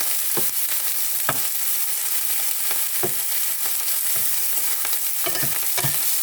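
Fried garlic being stir-fried in a pan, a continuous close sizzle with repeated soft scraping strokes of a spatula at an uneven rhythm.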